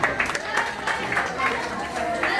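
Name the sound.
audience clapping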